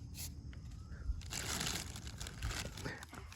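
Wild mushrooms being dropped into a plastic bag outdoors after rain, with near crinkling and rustling of the thin plastic throughout, faint background noise underneath.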